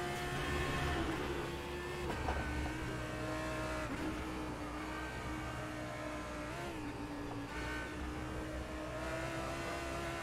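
McLaren 720S GT3 race car engine in the rFactor 2 sim at Silverstone, a steady droning engine note with gear-linked pitch shifts, held continuously at moderate level with no talk.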